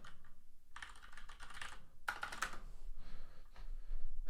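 Keys clatter on a computer keyboard in quick bursts of close typing with short pauses between runs, no voices.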